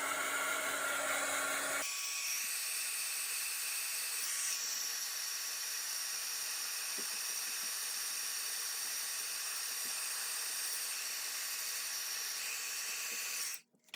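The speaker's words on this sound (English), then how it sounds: "And now come in with my heat gun." Heat gun blowing steadily over a handmade twisted easel card, a loud, continuous broadband hiss with a faint motor hum that runs nearly fourteen seconds before cutting off abruptly at the end.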